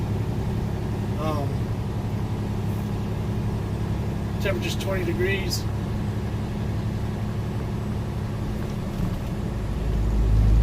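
An empty tractor-trailer truck rolls along a snowy road at about 35 mph with a steady low engine drone and road rumble, while the driver talks over it.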